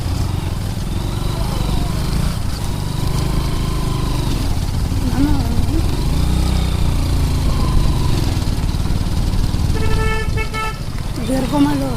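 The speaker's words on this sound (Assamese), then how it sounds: "এতিয়া অলপ ওপৰলৈ যাব লাগিব বাইক লৈ যাব পাৰিম" A motorcycle labours uphill on a road near a lake in Nagaon, Assam, its engine droning loud and steady up close while a voice talks over it, and a brief horn toot sounds near the end.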